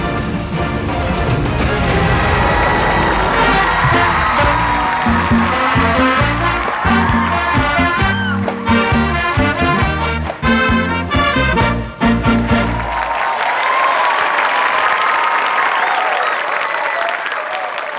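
An audience at a Thai school event claps and cheers loudly and continuously, first over music and voices, then as a dense wash of applause on its own.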